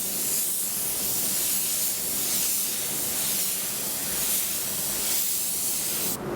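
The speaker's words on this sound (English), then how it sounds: "I'll spray 2 to 3 further coats wet on wet" Continuous loud hiss of a 1.6 spray gun at 1 bar laying down a wet coat of paint, steady and close, with a slight shift in tone near the end.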